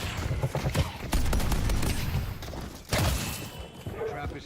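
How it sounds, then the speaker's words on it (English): Crackling bursts from enemies stealing souls in the video game Deadlock, several loud crunchy clusters arriving in uneven waves, with a voice speaking over them. "all that like cracking shit that you hear is them stealing the extra souls"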